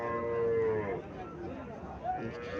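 A Haryana breed cow gives a single drawn-out moo, fairly quiet and somewhat distant, with a short second call near the end over low background noise.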